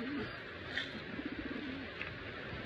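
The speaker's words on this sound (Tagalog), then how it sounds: "Ngayon meron na naman mga kalapatids, no?" Caged pigeons softly cooing close by, a low rolling coo heard against a constant background hiss.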